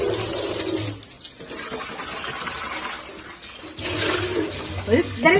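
Dried fish rinsed under a running kitchen tap, with water gushing and splashing close by, pausing briefly and then resuming, while someone talks over it.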